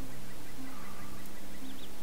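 Chickens clucking in a chicken-hunting quest in the PC game LOTRO, brief faint fowl calls under a dense, noisy background of game sound.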